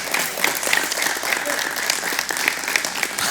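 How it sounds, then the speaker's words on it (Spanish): A church congregation bursts into applause, a steady patter of many hands clapping with a few sharper individual claps standing out, filling the hall at moderate volume without speech. "Aplauso al Señor."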